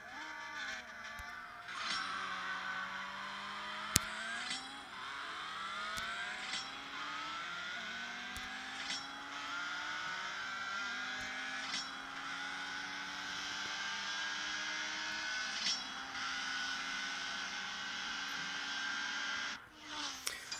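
Slow, unmodified car in the CSR2 mobile drag-racing game, engine revving up through repeated rising pitch sweeps with crisp gear shifts between them, steady and loud for the whole run with no talk.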